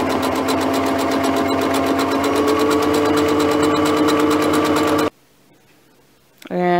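Close and loud, a home sewing machine runs a zigzag stitch in one continuous rapid pulse for about five seconds, then stops abruptly before a brief burst of handling noise.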